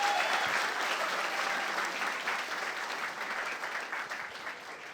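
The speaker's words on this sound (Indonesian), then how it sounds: "Tepuk tangan buat Anda semuanya." An audience at a stand-up comedy show in a hall with lecture-style seating claps loudly and continuously, the applause slowly tapering off over several seconds.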